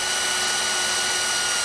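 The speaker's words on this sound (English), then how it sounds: "Now we're going to drill a hole through the side and then through the ladder here." A power drill whines steadily at close range, boring a hole through the side of a pontoon boat and its underdeck ladder, with no voices.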